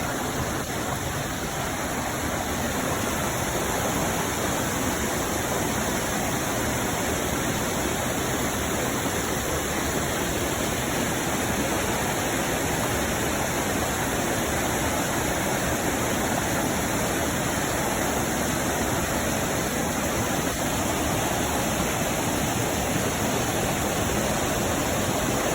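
A waterfall in Boone County, Arkansas pours in a constant, loud, broadband rush that stays steady and unbroken throughout, with no voices heard.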